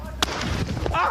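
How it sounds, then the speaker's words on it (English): A single sharp gunshot cracks during a tense police encounter, brief and fairly close, against a murmur of background noise and voices. "Shots fired, yeah, right here, shots fired."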